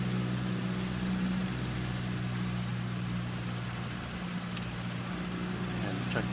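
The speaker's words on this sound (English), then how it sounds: "Going to do a mags check over 1800 RPM." Cessna C172 engine held at 1800 RPM for a run-up and magneto check in a flight simulator, a steady droning hum with no change in pitch and nothing else over it.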